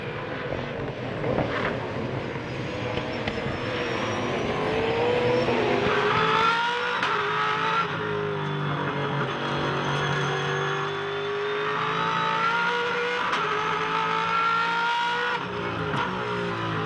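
V8 Supercars racing at Hidden Valley in Darwin, with engines roaring loud and rising and falling in pitch as cars pass and accelerate, a continuous dense drone of several cars at once.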